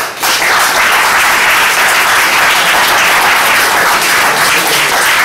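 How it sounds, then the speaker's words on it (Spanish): Loud, strong applause from an audience at a book presentation on political theology, a dense continuous roar of clapping hands, close and steady from start to finish. "con un fuerte aplauso"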